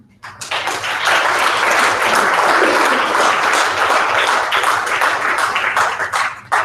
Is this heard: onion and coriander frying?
no